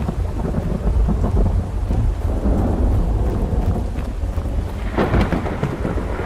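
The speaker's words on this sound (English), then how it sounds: "Daytime storm is not as bad as early morning storm." A daytime thunderstorm in the survival video game Road to Vostok: heavy rain pours continuously while deep thunder rumbles and cracks, loud and close, with no talk.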